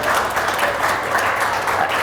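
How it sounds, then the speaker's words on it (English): A brief burst of audience applause at a live show fills the room, a dense, even patter of many hands lasting about two seconds with no voices. "A big round of applause from him."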